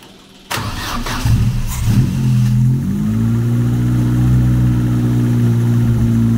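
A car engine with a faulty carburettor fires up and revs unevenly, then settles into a loud, steady idle as it warms, close and alone.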